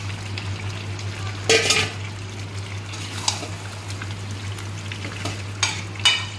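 Potatoes added to oil-released chicken frying in a pan for a Bengali red chicken curry, a steady close sizzle with a few louder spatters and stirring scrapes, no talking.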